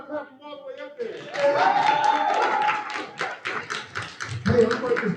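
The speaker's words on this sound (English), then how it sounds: "You gotta clap from all the way up there." A crowd at a live poetry performance claps steadily in a dense, close rattle of many hands for several seconds, after a brief voice and with chatter underneath.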